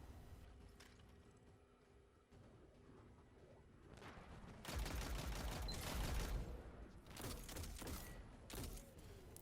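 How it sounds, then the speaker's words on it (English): Bursts of rapid automatic fire from an arc machine gun in Destiny 2, during a solo Ordeal-difficulty Nightfall run. The sustained, loud volleys start about halfway through and run on above a busy game-combat backdrop. "I have to switch back to my arc machine gun"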